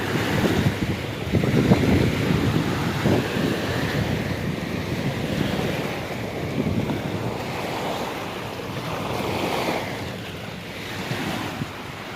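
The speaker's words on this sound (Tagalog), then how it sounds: "Sa lakas ng hangin guys" Strong typhoon wind roars steadily against the microphone with a constant rushing noise, surf-like and loud throughout.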